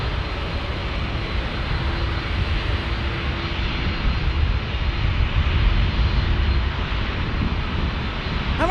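Airliner landing at San Diego airport on a flight in from Las Vegas, a loud, steady engine roar and broad rumble heard from an outdoor plane-spotting spot, with no talking.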